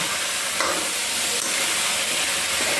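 Vegetables cooking in a pan on a gas stove are stirred, giving a continuous close sizzle and frying hiss with faint scraping of the spoon throughout.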